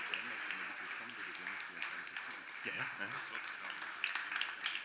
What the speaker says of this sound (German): Die kriegen auch mal einen großen Applaus.